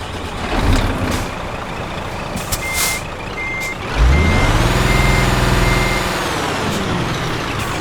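A Scania Streamline truck engine in Euro Truck Simulator 2 cranks and fires into a loud, steady idle rumble. A reversing beep repeats over it, and an air brake hisses in the cab.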